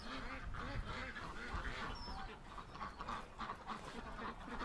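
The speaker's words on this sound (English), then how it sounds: "Oh, the ducks are all going to the other side." Ducks quacking outdoors on a cold, sunny spring day, a busy mix of calls over steady outdoor noise and wind, fairly close throughout.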